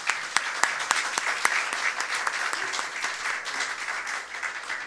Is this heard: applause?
yes